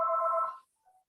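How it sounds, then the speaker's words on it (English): A telephone rings once in a steady, fairly loud electronic burst of about half a second, followed by a short, fainter second tone, in a quiet kitchen during a home cooking show. "This phone is ringing."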